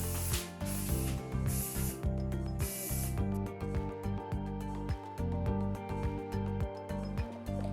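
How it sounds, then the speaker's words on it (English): Hairspray mists onto dry hair in short hissing bursts, followed by rhythmic rubbing and clicking sounds, close and fairly quiet, with no talking. "So just a light mist"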